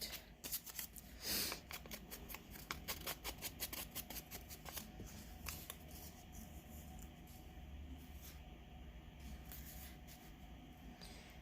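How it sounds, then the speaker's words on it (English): Paper junk mail envelope torn by hand in short crinkly rips and rustles, one sharp loud tear near the start followed by smaller scattered tearing and handling noises, quiet overall with no talking. "We're going to tear this down like this."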